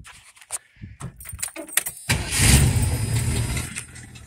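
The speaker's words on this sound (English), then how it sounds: "start the car up." A 1979 Ford Mustang engine cranks over after some light clicks and jingling, catches around midway, and settles into a steady, loud rumbling idle close by.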